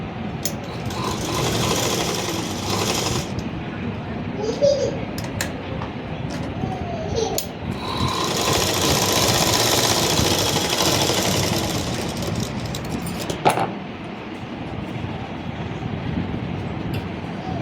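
A tailoring sewing machine runs steadily while stitching a neckline reinforced with buckram, a continuous loud mechanical whir with a brief clatter near the end and no talk over it.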